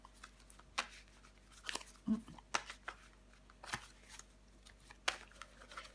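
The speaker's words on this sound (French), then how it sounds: "Je vais recouvrir des cartes." Cards are handled, flipped and laid out on a table during a horoscope card reading, giving soft papery rustles, slides and light taps in an irregular rhythm, close and faint.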